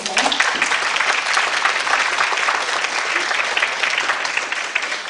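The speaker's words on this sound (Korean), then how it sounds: "우리 다시 한번 큰 박수 부탁드릴까요?" Loud, sustained applause from a university youth forum audience follows a lecture, dense and even from start to finish.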